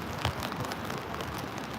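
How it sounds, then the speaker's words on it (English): Steady rain patters and hisses on a surface nearby, a dense continuous wash of drops with no voices. "it's supposed to be raining all day today"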